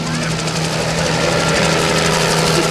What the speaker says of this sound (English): as the engine is grunting and straining to turn that main rotor system